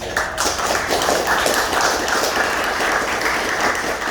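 An audience at an official visit gives dense, continuous clapping that stays even and fairly loud throughout, with no voices over it.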